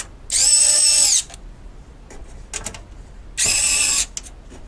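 A power screwdriver tightening screws while assembling a PC, two loud, steady high whirring bursts about a second each, close up, separated by quieter clicks and handling noises.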